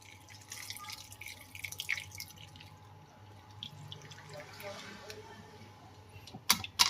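Homemade ginger juice, made as a sugarcane-style drink, dripping through a kitchen strainer, with irregular close drips and small trickles, faint speech in places, and sharp clinks near the end.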